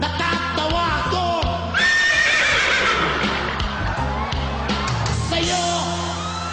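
On a Filipino talent show stage, a singer imitates a horse with loud, shrill whinnying cries that rise and fall in repeated bursts over a musical backing, with crowd noise and yells mixed in.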